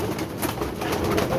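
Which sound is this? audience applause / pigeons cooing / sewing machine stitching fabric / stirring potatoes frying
pigeons cooing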